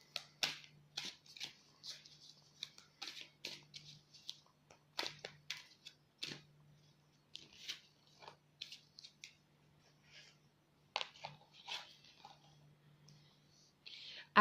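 Tarot cards being shuffled and drawn by hand in a quiet room, a series of soft crisp riffles, flicks and taps in uneven bursts with pauses, close and fairly faint, with a low steady hum underneath.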